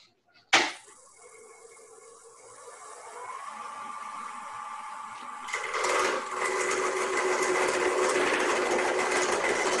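Wood lathe turning a tenon on a maple pen blank for a chuck, a steady high-pitched whir that jumps sharply at the start and grows louder and rougher as the tool bites, continuous and close with no talk.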